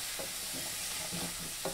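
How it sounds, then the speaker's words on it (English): Chopped onions and tomato sizzling in a frying pan during fajita rice cooking, a steady soft hiss with brief stirring scrapes, close and moderately quiet, no talking. "I love hearing a sizzle"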